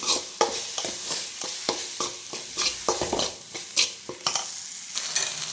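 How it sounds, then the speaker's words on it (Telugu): Ivy gourd and mint chutney stirred in a pan of oil, with a steady frying sizzle broken by repeated scraping strokes of a spoon at an irregular rhythm, close and fairly quiet. "ఇప్పుడు దీన్ని కూడా కలిపేసుకొని కాసేపు అలాగే వేగనించుకుందాం"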